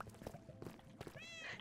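A Minecraft cat gives a short, faint meow near the end, over quiet game background sounds and soft noise.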